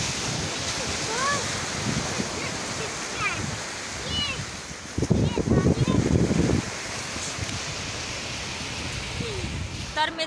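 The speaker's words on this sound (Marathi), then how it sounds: "हे बघा किती मोठे मोठे लाटा येतात ना" Sea waves break on Varca beach in South Goa in a steady broadband roar of surf, with a louder surge midway; voices talk over the water throughout.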